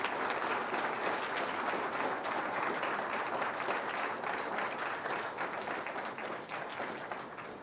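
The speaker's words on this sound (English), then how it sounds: "Another big round of applause, please" Sustained applause from a large audience at a university school launch ceremony, dense steady clapping that fills the whole stretch and tapers slightly toward the end.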